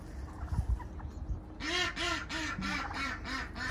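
A duck quacks repeatedly in a garden food forest, a run of loud, close, regularly spaced quacks that starts after a short stretch of quieter outdoor background.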